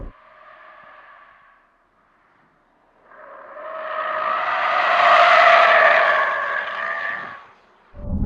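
Tires squeal as an all-wheel-drive Alpine A390 GTS electric crossover slides on a race circuit: a short, softer squeal, a pause, then a longer, louder screech that swells and fades. No engine roar and no voices.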